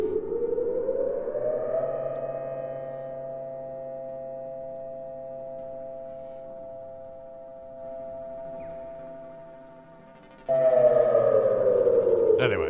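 A Moog synthesizer imitating an air raid siren, with a wailing tone that rises, holds steady and then surges louder toward the end. It plays alone without talk.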